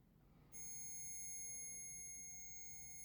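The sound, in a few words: beeping of a paranormal investigation sensor device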